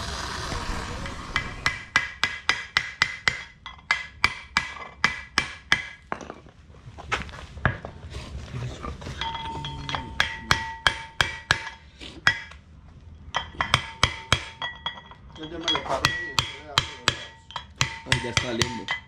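Hammer striking a steel chisel while working on a Trooper gearbox, sharp metallic blows in fast bursts of rapid repeated strikes with short pauses between runs, loud and close, ringing with a bright metallic ping.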